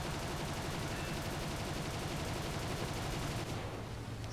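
Fiat G56 fighter guns firing in sustained rapid bursts during an attack run on a Lancaster bomber in a flight combat game, a dense continuous rattle over engine roar that eases slightly near the end.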